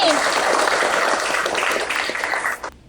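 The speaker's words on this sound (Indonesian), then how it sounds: "Kasih dulu aplaus sama Zaini" A classroom bursts into applause for a student, with dense, steady clapping from many hands lasting about two and a half seconds before fading out quickly.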